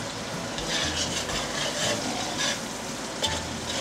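Garlic and red onion frying in a pan, a steady loud sizzle that holds without a break, with faint stirring scrapes now and then.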